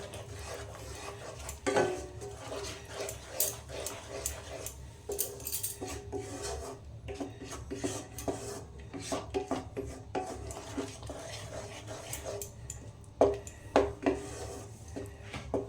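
Matar paneer masala being stirred and sautéed in a pan over medium heat after Kashmiri chili powder goes in: repeated scraping, rasping strokes of a utensil against the pan with occasional metallic clinks.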